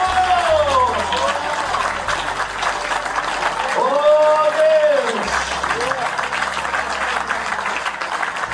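A church congregation applauding, a steady dense wash of clapping that runs throughout, with a voice calling out and shouting over it.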